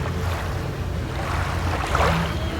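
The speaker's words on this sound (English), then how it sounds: "Oh, they actually have a wave, a water ride here." A log-style water ride at a fair churns its water, a broad rushing wash with a splash swelling near the end and wind buffeting the microphone, with no voices.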